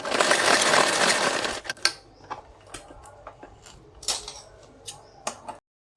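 Sewing machine stitching a salwar seam: a dense burst of rapid stitching opens, then stops, followed by scattered clicks and knocks of fabric handling and machine parts, close by.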